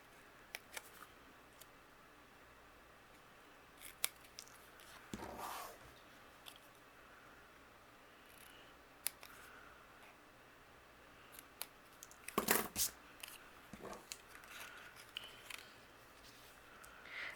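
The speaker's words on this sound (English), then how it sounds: "take my scissors and we're going to fishtail the end here on both of these" Scissors make quiet snips through paper strips to cut fishtail ends for card making. The close, faint blade clicks come in irregular bursts, with brief rustles and no speech.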